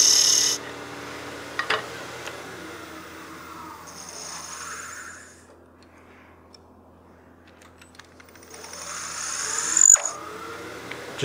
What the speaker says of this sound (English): Just trying to darken up that burnish line so I can see it a little better